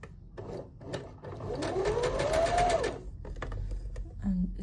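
A sewing machine stitches fabric for a handmade rose brooch in one steady burst of about a second and a half, between pauses and soft handling noises.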